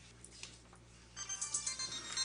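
A mobile phone ringtone starts partway through, a repeating melodic electronic pattern that pulses steadily and gets louder, with no talking.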